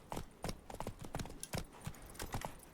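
Horse hooves clip-clop at a quick, steady trot in the video game The Witcher 3, close and clear, a run of rhythmic knocks.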